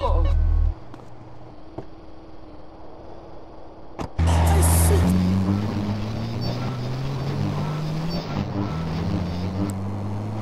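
Car engine revving and pulling away in GTA San Andreas, loud and close after a quiet start, rising in pitch as it accelerates with brief gunfire-like bangs and voices around it.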